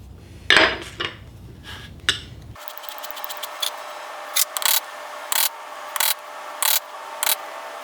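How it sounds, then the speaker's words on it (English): Sharp metallic taps ring out one at a time at an uneven pace as a hammer strikes chisels and gouges into wood, with a few duller knocks at the start, up close and otherwise quiet. "Another method is to use chisels, gouges, and a hammer."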